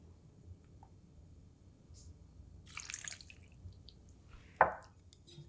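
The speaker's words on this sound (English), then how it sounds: "To this, we're going to add about 4 tablespoons of water." Water added by the spoonful to about 500 grams of 7:3 lean-to-fat ground pork for Chinese lion head meatballs, heard as a few faint drips and wet splashes in a quiet kitchen, with one louder splat near the end.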